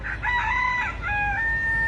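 A rooster crows loudly and close by in a long, warbling cock-a-doodle-doo of two or three drawn-out phrases over a low background rumble.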